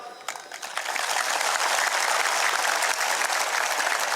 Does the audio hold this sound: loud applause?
yes